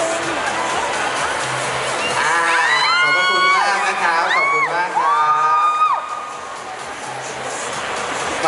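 A loud crowd at a mall entertainment event in Rangsit cheers and whoops over clapping, with high excited shouts rising in the middle before the noise eases toward the end.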